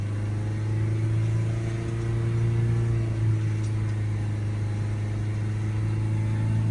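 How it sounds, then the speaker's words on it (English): A Citroen C4 Grand Picasso engine, parked with the handbrake on, holds a steady rev around 3000 RPM, a constant loud drone with a strong low hum and no talking. "Let's put the handbrake on so I can accelerate it up to 3000 RPM."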